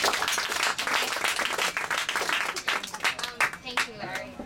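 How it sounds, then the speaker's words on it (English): Audience applause at a reading event, a lively burst of many hands clapping together that thins out toward the end, with some voices in the crowd. "Let's give her a round of applause."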